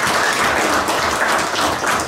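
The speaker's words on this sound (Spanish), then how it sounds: "Un aplauso para los padrinos" Steady, dense applause from a party crowd welcoming the godparents at a quinceañera celebration, continuous and loud for the whole stretch with no pauses.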